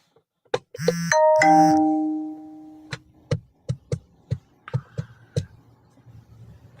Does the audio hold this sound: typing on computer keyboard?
no